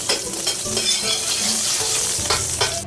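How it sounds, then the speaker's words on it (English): Peppercorns stir-frying in lard over low heat give a steady close sizzle with scraping stirs and a few louder clatters of the spatula, no voices. "Now we add some lard. We've got some peppercorns here. Let's stir fry on low heat."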